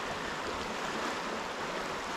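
Creek water at Glenbrook Creek on the Hume and Hovell Track rushes in a dense, steady wash that stays close and even throughout, with no voices.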